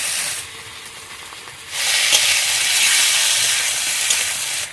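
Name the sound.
ginger paste frying in a wok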